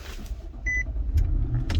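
A 2019 Infiniti QX80 starts up from remote start, a low close engine rumble swelling beneath a brief electronic chime and a few faint clicks.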